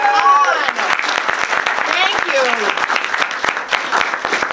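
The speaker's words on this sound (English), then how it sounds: "a round of applause for the team at Facets" A film-screening audience at Facets gives a round of applause for the venue's team, dense steady clapping filling the whole stretch, with a brief spoken thanks over it near the start.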